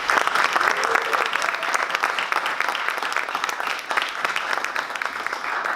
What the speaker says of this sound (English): give my sister, Crystal Jackson, a huge round of applause.